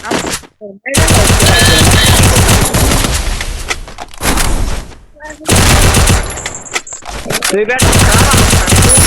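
Bursts of rapid automatic gunfire from a Free Fire mobile battle game rattle loud and close, several dense volleys separated by short gaps, with a voice faintly present underneath.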